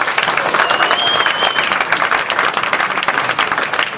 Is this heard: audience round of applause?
yes